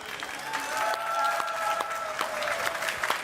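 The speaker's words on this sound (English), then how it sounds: "Und deshalb möchte ich, dass ihr jetzt einen großen Applaus gibt" An audience at Gamescom breaks into applause, a broad wash of clapping at moderate distance, swelling and holding steady with faint tonal sounds underneath.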